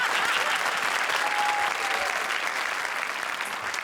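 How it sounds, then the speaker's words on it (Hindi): A comedy show audience breaks into loud, sustained applause, thick continuous clapping with crowd noise that stays even from start to finish. "जोरदार तालियां शान शकील के लिए।"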